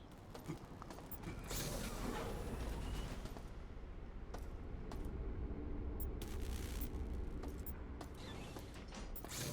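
A heavy sci-fi door grinds open in System Shock, a loud mechanical creaking and rumbling that rises after a brief start and runs on with scattered clanks and ticks.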